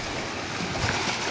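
Sea waves washing against a steep rocky shore, a loud, continuous broadband wash of surf close by, with no voices.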